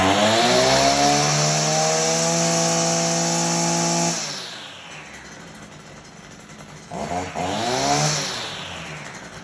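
STIHL FS240R string trimmer engine, freshly cleaned spark arrestor, revving loud at full throttle for four seconds, dropping to idle, then snapping back up to a high whine, close and alone.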